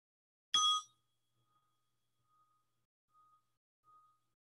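A meditation bell is struck once, a bright close ring that decays into a long faint hum swelling softly a few times in otherwise quiet surroundings.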